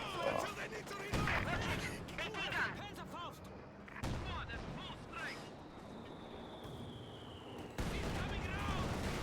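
A 120mm mortar shell hitting in Company of Heroes 2, with sharp explosive impacts and crashes among ongoing battle noise, and a commentator talking throughout.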